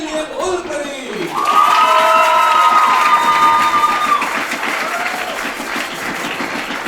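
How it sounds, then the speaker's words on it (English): German supporters in the crowd at a junior 10m air rifle final in Suhl clap and cheer loudly, with horn-like instrument tones sounding over the applause for several seconds before the noise eases. "the instruments have been brought out by the German supporters in the crowd"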